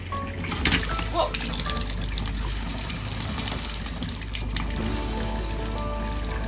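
Water from a powerful pump rushes and splashes continuously from a hose at close range, a steady forceful gushing with a low mechanical hum beneath it.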